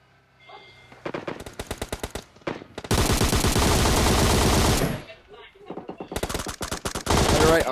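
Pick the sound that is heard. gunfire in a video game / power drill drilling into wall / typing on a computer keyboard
gunfire in a video game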